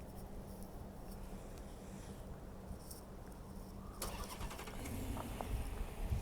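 A 2014 Chrysler 300C with a 5.7L Hemi V8 starts by remote, a low idle hum rising to a fuller engine note midway, heard outdoors at moderate distance with no talk.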